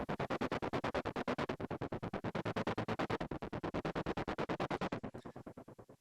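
A synth layer chopped by a gate into rapid, evenly spaced pulses, a fast stuttering rhythm that runs steadily and tapers off near the end.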